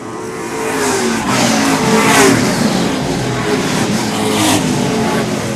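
Pro stock race cars roar around the oval at Seekonk Speedway, engines loud and sustained as the field passes, with a rising surge of revving and faint tire scrub as cars slide off the corners.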